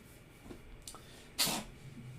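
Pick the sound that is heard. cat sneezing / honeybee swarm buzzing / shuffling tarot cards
cat sneezing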